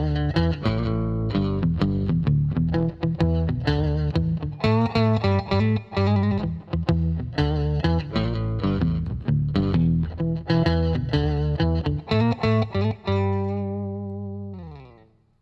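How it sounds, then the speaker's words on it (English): A bass guitar line played through the octaver effect of a Roland Micro Cube Bass RX amp, thick doubled low notes with a buzzy, slightly distorted tone, steady phrasing that ends on a sustained, fading note. "let's have a listen to the octaver sound"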